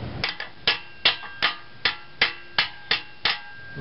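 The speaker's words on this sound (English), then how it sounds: "you just hammer it around" A hammer strikes an aluminium bushing being driven into a Nissan 240SX suspension, about ten sharp metallic blows in a fairly steady rhythm, loud and close with no talking.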